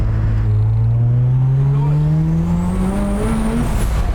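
A turbocharged 13B rotary-swapped Mazda RX-3 making over 500 hp accelerates hard under boost, its loud, close engine tone climbing steadily in pitch for several seconds before easing off.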